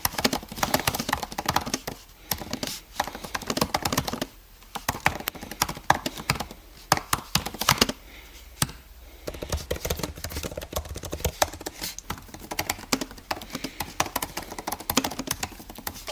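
Fast typing on an Apple Butterfly Keyboard, a steady stream of crisp, shallow clicks up close, broken by a few short pauses.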